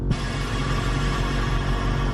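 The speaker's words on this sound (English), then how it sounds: "The psss of the air releasing for the airbags." A steady, loud hiss of air releasing from a vehicle's air suspension airbags under a low droning hum, sustained without a break from start to finish.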